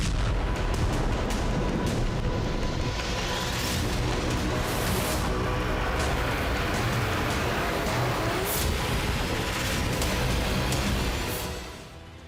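Heavy artillery fire and explosions rumble almost without pause, dense and loud, with sharp blasts punctuating the roar before it fades at the end, recorded during bombardment in Crimea around Sevastopol.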